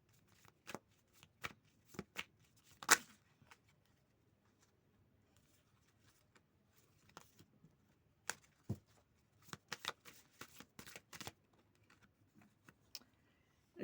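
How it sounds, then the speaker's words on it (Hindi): A deck of tarot cards is shuffled by hand in short, quiet riffling bursts separated by pauses, faint and close in an otherwise silent room. "3 कार्ड लेते हैं, इस डेक से लेंगे"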